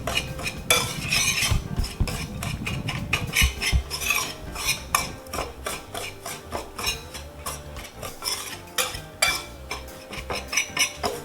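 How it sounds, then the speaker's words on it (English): Dry rib rub spices for smoked beef ribs stirred and mixed in a bowl, giving steady clinking, scraping and rubbing strokes in a quick uneven rhythm, close and moderately loud with no talk. "Mix all the ingredients together nicely."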